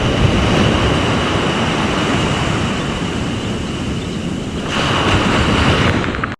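Ocean waves at an open sea fishing ground, a loud continuous rush of surf mixed with buffeting wind noise on the microphone, with no talking.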